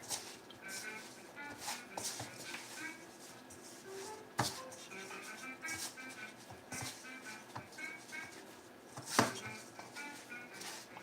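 A knife cuts a shaggy biscuit-style dough into triangles on a board, making a string of soft, irregular taps and thuds, some sharper knocks standing out, with talking partly over it.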